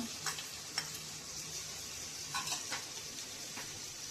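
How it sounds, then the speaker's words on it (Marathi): Chopped onion, tomato, potato and ivy gourd fry in a pan for Maharashtrian masale bhat. A soft, steady sizzle runs throughout with a few light stirring scrapes and no voices. "आता हे आपल्याला चांगलं फ्राय करून घ्यायचं आहे"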